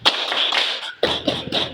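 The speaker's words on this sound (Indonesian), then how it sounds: "Kalau kau suka hati, tepuk paha." Children in a primary madrasah classroom slapping their thighs during an action song, a quick run of soft, irregular slaps and pats close by with no voices over them.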